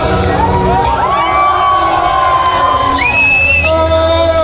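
A parade crowd at the Kazanlak Rose Festival cheers and whoops loudly, with children's voices shouting and rising yells running through the noise.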